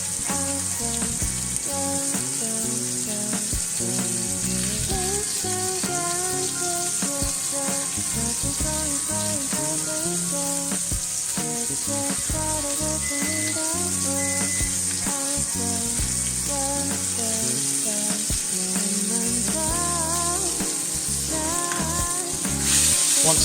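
A rib eye steak fries in a pan with a constant bright sizzle, while tonal, melodic sounds, likely background music, run throughout.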